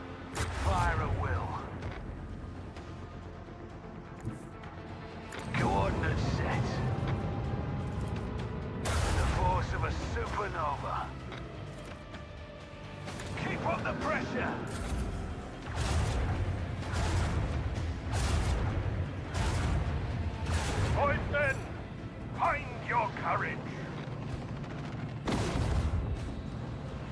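Ship weapons firing at will in the Warhammer 40k Rogue Trader video game, repeated heavy booming volleys with whooshing bursts spread across the stretch, loud, with talk in between.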